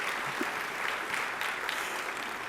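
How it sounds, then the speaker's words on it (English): Audience at an awards luncheon applauding steadily, a dense, even wash of many hands clapping without pause and no voices over it. "So now you have to clap about that."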